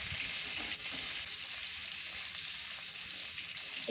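Fish being fried and turned over in a pan, giving a soft, continuous sizzle throughout with a couple of faint knocks and scrapes.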